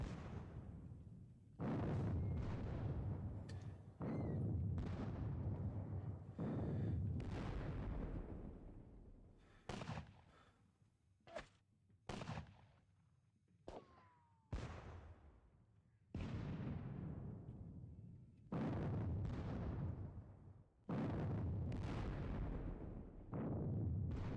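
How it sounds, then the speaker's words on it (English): Cannon volleys in a Napoleonic-era war game boom out as loud repeated blasts, each trailing into a long rumbling decay, with several shorter sharp reports in between. "Throwing up more skirmishers, more infantry. And the standard cannonade."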